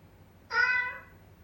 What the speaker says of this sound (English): I think that's a cat.